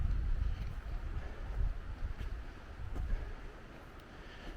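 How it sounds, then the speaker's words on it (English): Cold wind gusting and howling steadily across a hiking trail on the Appalachian Trail near Long Creek Falls, a continuous broadband roar with slow swells and no voices. "you can probably hear that wind in the background, because it is really starting to howl"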